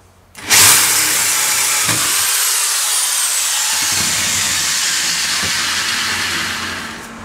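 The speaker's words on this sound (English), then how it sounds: "First thing we're going to do is drill a 5/16 hole in it." A power drill bores a 5/16-inch hole into a metal tube for several seconds, a loud continuous high-pitched grinding that holds without pause before tapering off.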